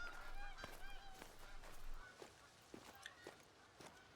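A flock of snow geese honks in the hunting game theHunter: Call of the Wild, at high altitude on Askiy Ridge, with faint repeated calls and soft footsteps trudging along.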